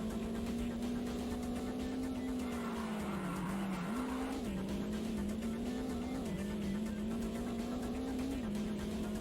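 Race car in the Top Gear Rally video game, engine droning steadily at a high pitch with rising and falling revs and tire skids, loud and continuous with no talking.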